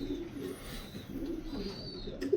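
A racing pigeon coos softly nearby in a few low, rolling phrases, with light background noise and no talking.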